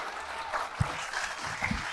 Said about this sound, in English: can I get an enormous round of applause for Daniel Levy and Ahmed Alnaouq?